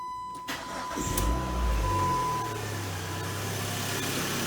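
A 2002 Chrysler PT Cruiser engine cranks and fires up after an oil and filter change, then settles into a steady, smooth idle close by, with no talking over it.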